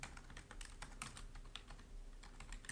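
Typing a name on a computer keyboard, a quick irregular run of light clicking keystrokes, close and quiet with no talking.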